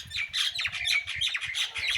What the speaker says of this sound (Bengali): আর এদিকে পাখিগুলো কিচিরমিচির করতেছে